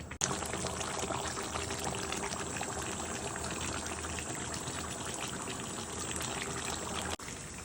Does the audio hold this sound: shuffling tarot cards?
no